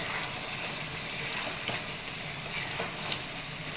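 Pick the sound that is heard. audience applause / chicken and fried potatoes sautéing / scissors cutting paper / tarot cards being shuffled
chicken and fried potatoes sautéing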